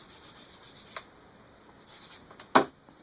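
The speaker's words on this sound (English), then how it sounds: "Sharpened it again." A compressed charcoal stick is sharpened in short scraping and rubbing strokes, soft bursts of gritty friction with brief pauses and one sharper scrape near the end, close and quiet.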